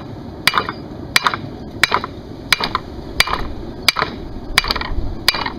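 Hot horseshoe steel is hammered on an anvil in steady, evenly spaced blows, eight sharp ringing strikes over a few seconds, loud and close with no talking.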